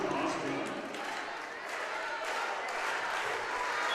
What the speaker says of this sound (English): Crowd getting loud again.